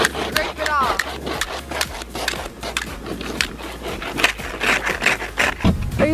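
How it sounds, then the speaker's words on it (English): Thick ice is scraped off a car on a snowy day, heard as repeated rough rasping strokes up close, with voices talking over parts of it. "Look at this ice. It's so thick you can barely scrape it off."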